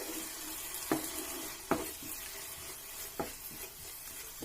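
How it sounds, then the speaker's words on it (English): Aubergine masala fries in oil while a spoon stirs it, with a few sharp scrapes at irregular intervals over a soft, close, steady sizzle. "So I'm going to stir this till the oil separates"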